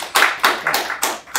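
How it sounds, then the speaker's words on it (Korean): An audience at a 2020 organ-donation day symposium applauds, giving a series of sharp, separate claps in an uneven rhythm, close and moderately loud. "박수 한번 부탁드립니다."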